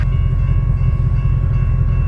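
A train rolls through a railroad crossing where the crossing guards are malfunctioning, giving a loud, steady, close rumble of rail cars with a faint sustained tone above it and no talking.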